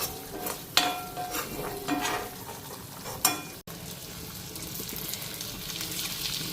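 Spices with cumin seeds, coriander powder, tomato paste, green chilli and bay leaf frying in a pan, a close, continuous hiss with a few sharp clinks of stirring before the sizzle settles into a steady wash.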